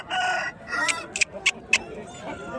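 Rooster crowing amid a busy outdoor rooster market with roughly three hundred people, a few short bright calls rising over steady crowd chatter and talk.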